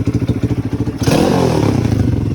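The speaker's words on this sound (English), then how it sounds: "as you can hear, the bike is running good, no problems." A Tao Tao dirt bike fitted with a new carburetor idles with a steady pulsing putter, then revs up after about a second into a louder, rougher sustained engine drone with some clatter, close by.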